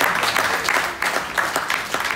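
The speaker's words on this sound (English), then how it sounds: "give yourselves a beautiful round of applause for coming out of your house" An audience at a mental health and suicide performance project claps continuously throughout, a dense, steady wash of applause with no speech over it.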